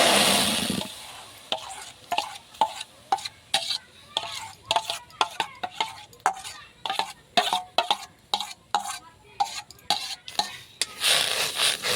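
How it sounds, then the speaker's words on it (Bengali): Jackfruit juice heating in a kadai for a steamed rice-flour pitha, a spoon scraping and stirring the pan in steady repeated strokes over a soft background simmer, close and fairly loud with no talk. "এবার কাঁঠালের রসটা জাল করে নেব।"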